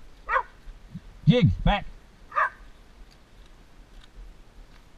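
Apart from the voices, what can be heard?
ranch dogs barking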